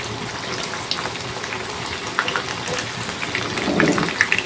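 Prawns frying in hot oil, a steady crackling sizzle with scattered pops and spatters that swell briefly near the end, close and moderately loud with no talking.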